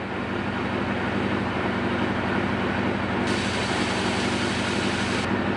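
A Suzuki GS850 motorcycle engine idles with a steady, even rumble, close by and continuous without any revving.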